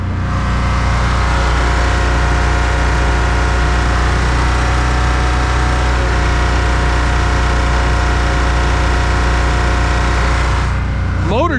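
A restored generator engine runs at rated power, a loud steady close drone with a deep hum that holds evenly throughout, with a voice talking faintly over it.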